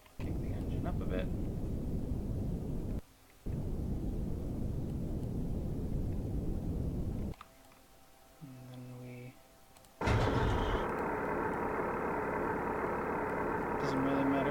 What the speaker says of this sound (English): Kick the engine up a bit.